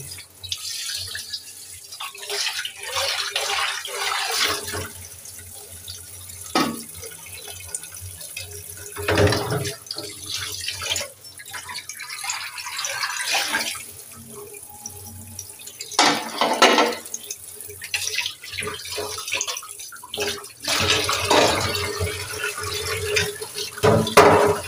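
Tap water runs and splashes intermittently while dishes and pots are rinsed at a sink, with clattering of plates between the bursts of flow.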